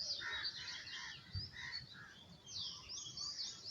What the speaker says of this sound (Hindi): पशु पक्षियों के ध्वनि के ऊपर मन को केंद्रित करें